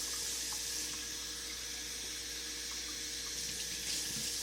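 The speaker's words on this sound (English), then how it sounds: "I'm going to fill up this cup twice because we got 1 little scoop of rice in here" Running water from a sink tap fills a cup for cooking rice, a steady close hissing stream with no talking.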